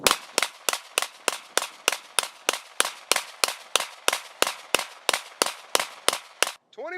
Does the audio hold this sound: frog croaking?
no